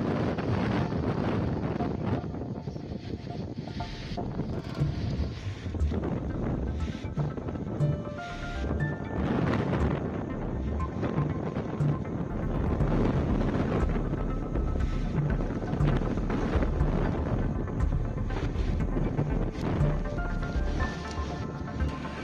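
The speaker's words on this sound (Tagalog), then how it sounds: "Grabe, ang lakas ng hangin." Strong typhoon wind roars in a steady, loud blast during a landfall in Cagayan, heavy buffeting against the microphone with rushing, surf-like gusts and no talk.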